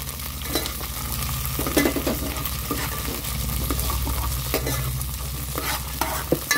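Green chillies and green peas being stirred in a hot pan for tomato rice: a steady sizzle broken by sharp scraping strokes of the spoon, with low background music underneath.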